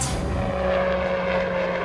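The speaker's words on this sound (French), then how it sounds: "Le moyen de locomotion dans la région, c'est l'hélicoptère." A helicopter at a Swiss ski resort produces a steady, loud, broadband rotor and engine drone with a constant hum throughout, and no voices are heard.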